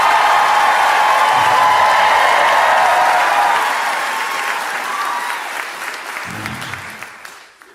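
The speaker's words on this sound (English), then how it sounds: "please make some noise for Josh Johnson" A stand-up comedy audience bursts into loud sustained applause and cheering as the comedian is welcomed on stage, gradually thinning out toward the end.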